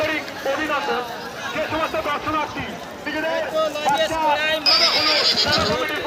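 A horse whinnies amid an outdoor crowd babble at a horse race with about thirty horses on a field, with hoof sounds and voices mixing throughout.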